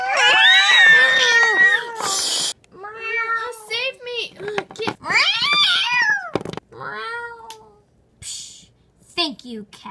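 Several loud, close cat meows in a row, drawn-out and wavering, with short pauses between calls and a few brief noisy bursts.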